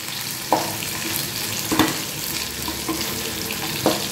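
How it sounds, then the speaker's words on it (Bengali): Cauliflower stalks frying in oil sizzle continuously up close, with a few sharp clinks and scrapes of stirring spaced through the short stretch. "এই ডাঁটিগুলো একটু তেলের দিকে দিতে হবে, এইভাবে ভাজলে ভালো হয়।"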